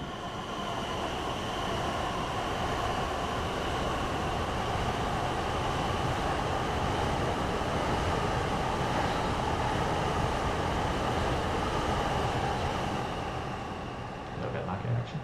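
A Class 377 electric train in Train Simulator 2020 on the London Bridge to Epsom route runs with a steady, continuous rumble of wheels and motors, with a faint whine and no speech.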